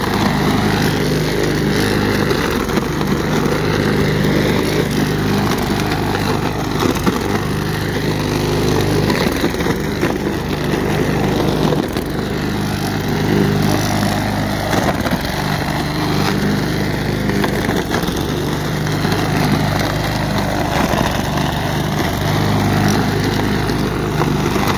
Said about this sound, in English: it'll basically be ground up by this lawnmower